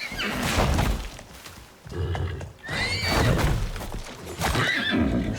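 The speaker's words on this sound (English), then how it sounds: "you notice we have a horse just walking by with this juvenile" A horse in a video game neighs and whinnies loudly several times, close by, with hoof clip-clop and thuds between the calls.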